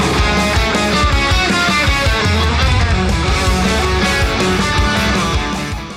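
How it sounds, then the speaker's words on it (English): Guitar riff repeated with a scale-run variation along the second string, set in a loud, dense full-band arrangement. It is sustained and intense throughout. "on the third repetition of the riff, I just do the same variation of the scale run where I go to the 2nd string"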